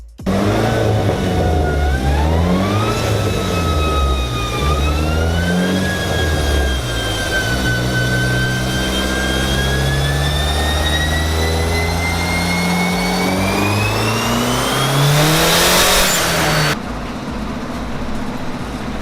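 A big-turbo Dodge SRT-4 engine winds up hard on a dyno in one continuous loud pull, pitch climbing steadily with turbo whine over a deep droning exhaust, then dropping off abruptly near the end.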